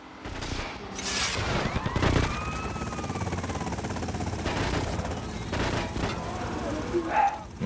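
Gunfire aimed at a bulletproof car in GTA Vice City Stories on PS2, with bursts of shots and booms over a busy mix of game sounds and engine noise, and a voice talking over parts of it.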